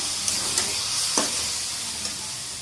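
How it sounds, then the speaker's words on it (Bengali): Fish and cabbage curry is stirred in a pan, giving a steady close sizzle with a few soft scraping strokes of a spatula, alone without speech. "এবার একটু নাড়াচাড়া দিয়ে দেবো"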